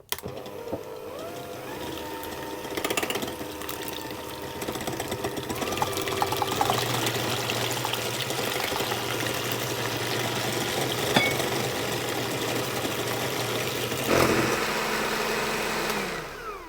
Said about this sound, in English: I'm going to add some of the sugar in and whisk it